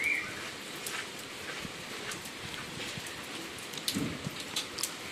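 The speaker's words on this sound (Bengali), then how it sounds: "আর বাইরেও প্রচণ্ড বৃষ্টিও হচ্ছে" Heavy rain falls outside as a steady, broadband hiss of drops on surfaces, fairly soft and continuous, with a few brief louder patters and no talking.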